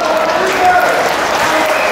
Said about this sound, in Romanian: Haideți să-i aplaudăm încă o dată, vă rog, pe luptători